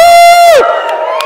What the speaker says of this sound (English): Big round of applause, thank you very much.